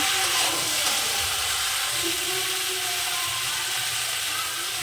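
Fish head and potato pieces sizzle steadily in a hot pan for cooking Bengali pui shaak, a constant hissing fry with faint scraping of stirring, close and continuous with no talk.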